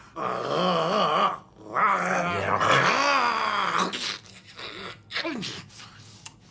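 A man imitates a dog's growl in voiced, rumbling bursts, loud and close, with some vocal strain between them.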